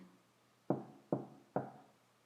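Three evenly spaced knocks on a door sound alone in quiet surroundings, each one sharp and moderately soft with a short decay.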